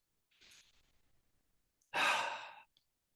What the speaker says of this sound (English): I want you to just breathe deep.